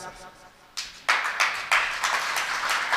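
An audience claps during a Hindi religious sermon: a couple of isolated claps, then a burst of brisk, fairly close clapping that settles into a steady round, with a voice faintly present at the start.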